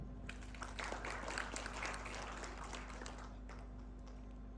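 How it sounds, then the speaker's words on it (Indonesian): A church congregation gives fairly quiet, steady applause during a Sunday worship service, the clapping thinning out toward the end over a low steady hum. "Tepuk tangan untuk Tuhan."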